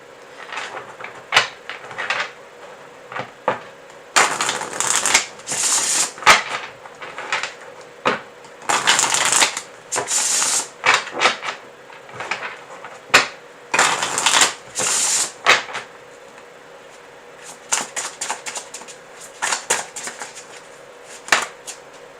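A deck of tarot cards shuffled by hand in repeated riffling bursts, crisp and close, separated by short pauses and small handling taps.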